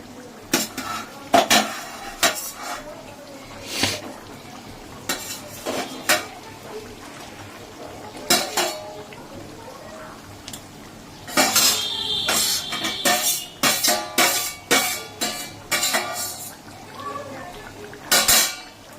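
A ladle scoops chicken biryani from a hot pot, with repeated metallic clanks and scrapes against the rim in uneven bursts, close and fairly loud, with a denser run of clatter midway.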